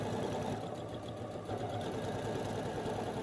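A sewing machine runs steadily while stitching the edge of a fabric tote bag, a continuous close mechanical whir with fine rapid stitching texture throughout, no talking.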